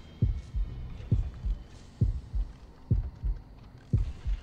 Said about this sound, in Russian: У меня учащается пульс.